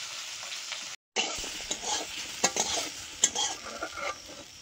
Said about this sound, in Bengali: হলুদ আর লবণ দিয়ে ভেজে নেব।